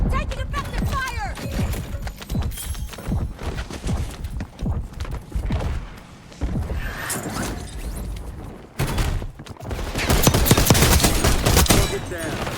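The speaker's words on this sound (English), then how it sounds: "Taking effective fire!" Rapid automatic gunfire from a Call of Duty Warzone match on Rebirth Island, with dense bursts of shots and clattering mechanisms. Game voice callouts are heard in between, and there is a loud sustained barrage toward the end.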